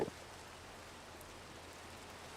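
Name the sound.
rain in the video game Minecraft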